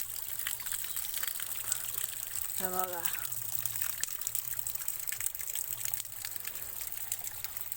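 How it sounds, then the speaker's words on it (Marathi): Rainwater streaming down from a mountain forest near a village during heavy rain: a steady, broad rushing wash throughout, with someone speaking briefly over it. "पूर्ण डोंगरातनं पूर्ण जंगलातनं पाणी येतंय लय"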